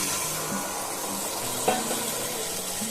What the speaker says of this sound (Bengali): দিয়ে দিচ্ছি আমি একটু উষ্ণ গরম জল।